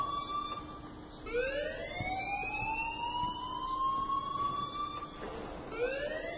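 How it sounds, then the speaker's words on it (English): A rising and falling siren-like alarm rings in the video game Life Is Strange, with strong sweeping tones that climb and hold steadily, then restart near the end, loud and alone without talk. "please turn off that alarm since that's your job"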